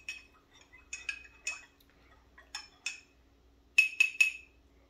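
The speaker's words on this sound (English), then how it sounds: "I'm going to give this a stir." Metal spoon stirring a warm drink seasoned with a few dashes of bitters in a glass, a series of light clinks against the glass in short bursts, with a final trio of quick, brighter taps, close and alone in a quiet room.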